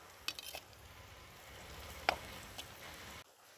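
Tomato and curry leaves for an egg curry sauté in a pan with a soft, quiet sizzle and a few light utensil taps, ending abruptly.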